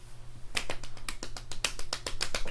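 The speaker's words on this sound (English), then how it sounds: "Golf clap." A sparse golf clap sound effect, a handful of slow, separate hand claps at a measured pace following a brief quiet start, close and fairly soft.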